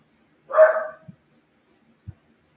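A single sharp dog bark rings out close by, followed by two faint low thumps and then quiet.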